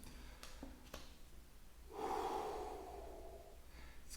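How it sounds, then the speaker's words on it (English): A person breathes out slowly, a soft, close airy exhale lasting over a second after a few faint clicks, with no talk. "So take time to breathe out."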